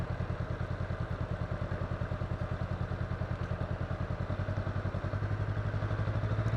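A motorcycle creeps along at walking speed under careful clutch control, its engine putting out a fast, even mid-pitched thumping pulse that stays steady and close, with no voices.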